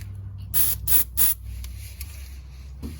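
Three short bursts of aerosol spray hissing in quick succession, fairly close, followed by a low steady background hum and a faint later puff.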